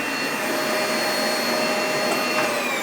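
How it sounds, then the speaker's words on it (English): A household vacuum cleaner runs steadily in a workshop where a Gibson Les Paul Studio guitar is being repaired, giving a loud, constant whine and rush with no pauses and no talking. "My goggles fell off and turned on the vacuum cleaner."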